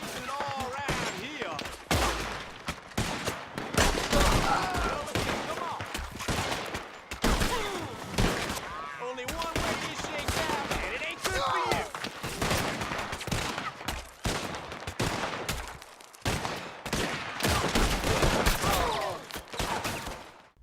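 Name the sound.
gunshots in the video game Red Dead Redemption 2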